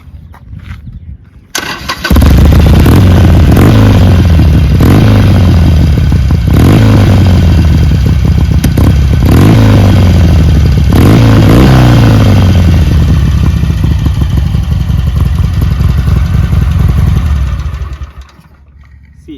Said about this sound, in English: Let me show you how this exhaust sounds.